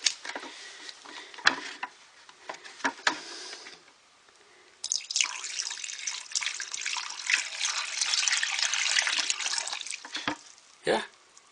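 Water poured from a bucket into a floor drain fitted with a check valve, a soft trickle and a few drips, then a louder splashing gush for several seconds that tapers off, with faint clunks of handling.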